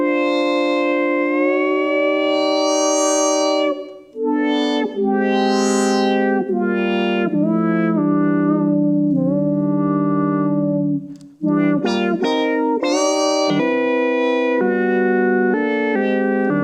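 Sustained synth chords shift in pitch as a pitch bend selects different chord voicings, bright and loud with echo and distortion, the chord changing every second or so with brief dropouts, no talking.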